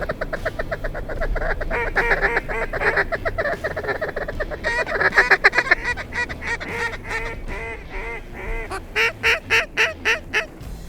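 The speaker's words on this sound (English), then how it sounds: "we just had ducks start rolling back in" Mallard ducks fly in over a warm water creek in Nebraska, a dense chorus of rapid quacking and raspy calls rolling continuously, loud and near, with rhythmic pulsed bursts toward the end.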